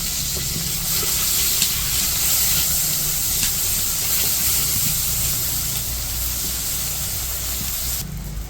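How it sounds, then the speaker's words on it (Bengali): Onions fry in oil in a village kitchen, a loud continuous hiss and sizzle holding steady and close for the whole stretch. "পেঁয়াজ তো ভেজে নিলাম"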